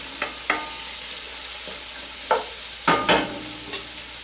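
Something frying in oil in a pan, a steady hiss with several sharp crackles and clinks of stirring scattered through, no talking.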